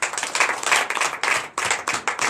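A church congregation at a Sunday service claps together in a steady rhythmic burst of hand claps, fairly loud and close, with brief dips between phrases and no voices over it.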